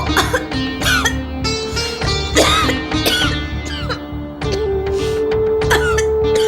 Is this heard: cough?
yes